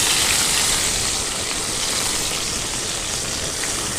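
Ginger, garlic and green chili frying in hot oil in a pan for handi chicken: a loud, continuous, close hiss and sizzle that holds steady without speech.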